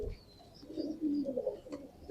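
Low, throaty cooing from a pigeon kept by a fancier, Amritsari hen nearby, rolling on in soft, uneven phrases for a couple of seconds, steady and moderately close, without speech.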